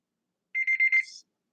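A timer goes off with a short electronic beeping alarm, four quick pulses and a fading tail, heard alone in otherwise quiet surroundings.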